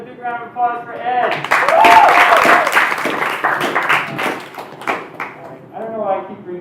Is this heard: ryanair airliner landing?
no